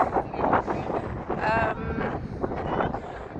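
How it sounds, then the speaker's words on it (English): Gusty wind rumbles against a microphone outdoors at a beach, with a voice faintly audible through the buffeting. "Still it's windy, you can see that it's still windy."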